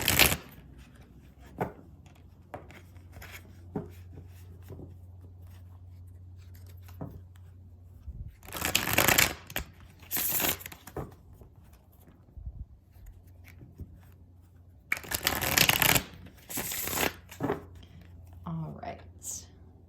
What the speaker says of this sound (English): let's get them shuffled up a little bit